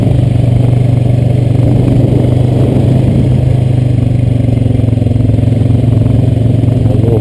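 A Honda Rancher 420AT ATV rides over a bumpy, cobblestone-like dirt path. Its mid-pitched engine drones loud and steady close by, with a continuous rattling clatter from the rough ground.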